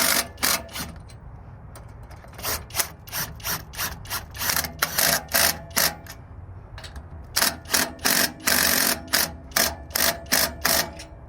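Power tool or ratchet tightening a bolt on an F550 truck camper, rapid bursts of loud mechanical clicking repeated in short rhythmic runs, close up with brief gaps between.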